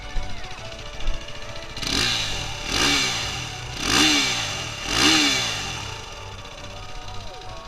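A 2017 KTM RC390 motorcycle engine idles, then revs four times in a regular rhythm, each rev a bassy swell rising and falling, close and loud.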